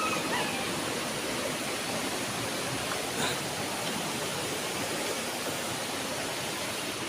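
A clear, rocky river flows in a constant, full rush of water, loud and close with no break, and no voices over it.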